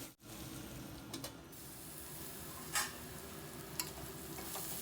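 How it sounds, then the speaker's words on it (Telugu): Bitter gourd pieces stir-fried slowly in a pan give a steady low sizzle, broken by a few brief scraping stir strokes; no voices. "మధ్య మధ్యలో ఇలా కలుపుకుంటూ ఇలా ఫ్రై చేసుకోవాలి"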